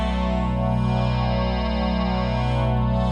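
A sustained, buzzing synthesizer tone with a dense stack of harmonics, its timbre shifting and wobbling under a random LFO driving spectral distortion, slightly unpredictable, loud and alone.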